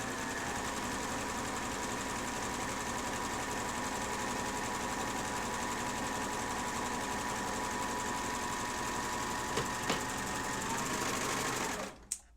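Serger machine sewing a rolled edge on apron fabric runs in a steady, fast continuous whir for about twelve seconds, close and even, then stops abruptly near the end.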